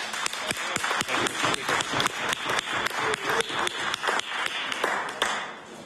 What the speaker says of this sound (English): I thank the government for that wonderful round of applause I was given as soon as I stood up